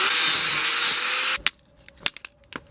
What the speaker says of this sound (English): so I'm just going to have to grind it open.